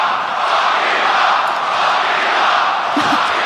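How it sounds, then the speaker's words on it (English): A large arena crowd at a fight roars in a sustained, loud wall of cheering and shouting that swells and holds throughout. "Are they cheering what I think they are?"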